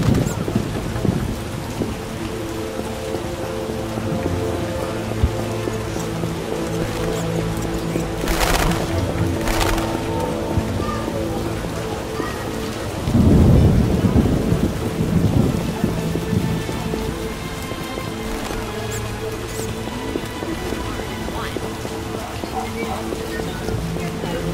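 Thunderstorm in The Witcher video game: steady heavy rain hisses throughout, with a loud thunder crack near the middle and a rolling rumble a few seconds later, no voices.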